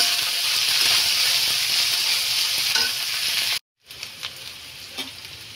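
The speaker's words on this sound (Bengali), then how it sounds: "এখন আমি সবজিগুলো খুব ভালো করে ভেজে নেব।" Vegetables sizzling in soybean oil for a Bengali veg polao, a loud continuous fry with light stirring scrapes, broken by a brief silence before quieter crackles resume.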